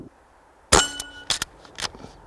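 An Umarex RP5 CO2 airgun fires a pellet with a sharp, loud crack up close, followed by a few quick metallic clacks and a ringing tail, with no talking.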